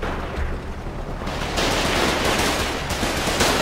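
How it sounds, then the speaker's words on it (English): Dense turret gunfire in the Foxhole war game, a loud, continuous stream of rapid shots and impacts with no clear pauses. "That turret's loud as."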